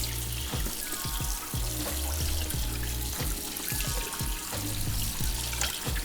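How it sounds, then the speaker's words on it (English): Salted meat is rinsed under a running kitchen tap for an Instant Pot menudo roja, with a steady stream of water and irregular splashing and dribbling as the meat is moved around, close and alone. "I'm gonna rinse it out. I'm gonna get some of that salt off of it."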